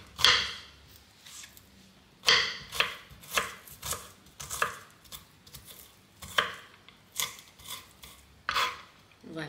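Knife chopping a shallot on a cutting board, sharp rapid strokes in irregular bursts with short pauses between, close and clear with no talking.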